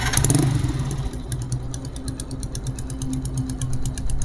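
A motorcycle engine, with an AC pump fitted, cranks over and settles into a steady idle, close and loud, with a low rumbling drone and rhythmic ticking clatter. No voices are heard.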